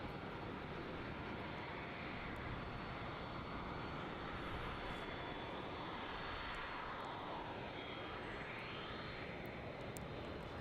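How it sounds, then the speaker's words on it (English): A DHL Boeing 767 taxiing at Melbourne Airport gives a steady, broad engine roar that holds without a break, moderately distant and fairly faint, with no voices over it. "And looks like the DHL 767's taxiing by as well, putting on a show for us."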